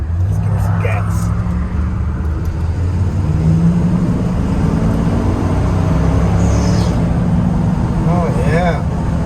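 A 1987 Chevrolet Silverado pickup's engine runs close by with a loud, steady low rumble, its pitch rising slightly as the throttle is opened in a mild rev.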